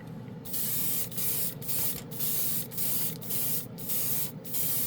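Airbrush spraying chrome paint onto a spoon, a steady close hiss in repeated bursts of about half a second separated by brief gaps.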